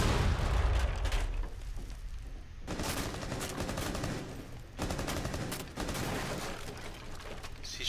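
Heavy gunfire in a Rainbow Six Siege team deathmatch on the Skyscraper map, sustained automatic bursts and booming shots in several dense clusters separated by short gaps, loud throughout with no talk.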